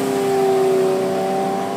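A car engine revs steadily with a strained, sustained whine as its transmission gives out, loud and continuous for under two seconds with no talk.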